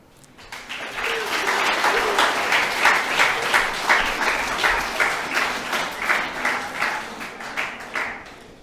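An audience at a school presentation day claps for two newly announced peer support leaders, a full, steady round of applause that rises quickly and holds for several seconds with a rhythmic swell.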